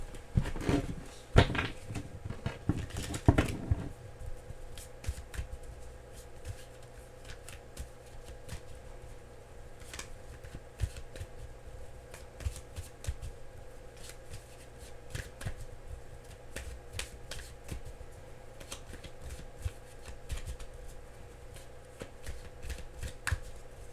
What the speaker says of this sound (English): I have to shuffle, these aren't the cards.